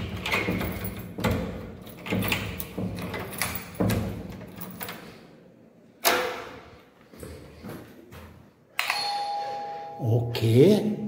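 A ding-dong doorbell chimes at the front door of a home after a buzzer-type bell was swapped out, with two-tone chimes and door noises heard near the end under earlier indoor bumps and talk.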